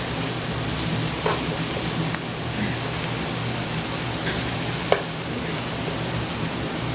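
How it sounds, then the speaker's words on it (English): Vegetables for veggie lo mein being stirred in a hot pan, giving a steady, even sizzle throughout with a few faint scrapes and clicks of the utensil, no voices. "And I'm just stirring my veggies."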